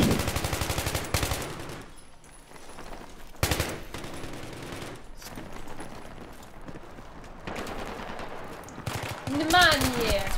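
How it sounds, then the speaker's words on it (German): Gunfire from a weapon in the shooter Battlefield 3, close-quarters map, with bursts of rapid automatic shots and single loud cracks spread across the clip, separated by quieter stretches of game ambience. "die Waffe, die schießt mir viel zu langsam"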